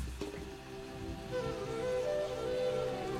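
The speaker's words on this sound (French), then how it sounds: "Cette eau qui bout, qui frémit." Water bubbles and simmers in a pot, a soft continuous gurgling with light popping, close and moderately loud throughout.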